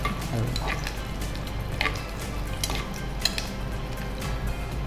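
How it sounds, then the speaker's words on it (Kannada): Red chillies and other tempering spices sizzling in hot oil for a dal fry, a steady frying hiss with occasional utensil clinks, close and continuous with no talking. "ಉದ್ದ ಮೆಣಸು ಒಂದೆರಡು ಹಾಕ್ತೀನಿ, ಕೆಂಪು ಮೆಣಸು"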